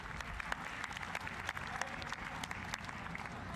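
Spectators clap at a boxing event in the ring, a dense, steady wash of applause with light crowd murmur, heard at a moderate distance and fairly quiet.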